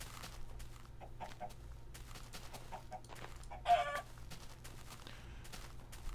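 Chickens cluck in a blocky video game world, with scattered soft clucks and one sharper, louder squawk partway through over a low, steady background hum.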